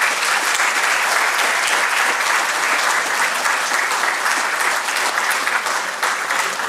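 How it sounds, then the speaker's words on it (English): Sustained, loud applause from a large audience at a memorial lecture, dense steady clapping with no voices standing out. "Please join me in welcoming him with a huge round of applause."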